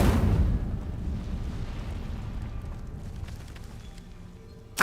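An Incendio fire spell cast in Hogwarts Legacy, a sudden whooshing burst of flame at the start that fades into a low rumbling crackle, then a sharp hit near the end.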